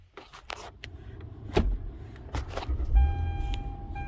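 A car that would not start while in park cranks and starts by itself under computer control of the starter: a loud thump near the start, then a low rumble and a steady motor whine settling in.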